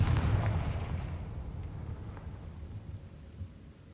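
A Confringo spell blast in Hogwarts Legacy booms as a loud, deep explosion at the start, then rumbles and fades away over several seconds, with no voices over it.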